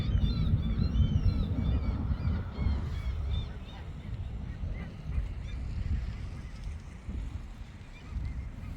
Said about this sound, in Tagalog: Naririnig niyo yung mga ibon.